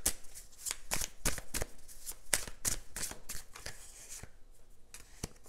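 Tarot cards being shuffled by hand, a quick run of crisp riffling bursts and soft card slaps in an irregular rhythm, close and moderately loud, with no talking.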